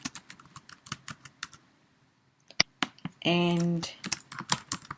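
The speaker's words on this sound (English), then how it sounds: "Okay, so I will type in" Typing a search on a computer keyboard: a quick run of close, crisp key clicks, a short pause, then more taps, with a brief voice heard among them.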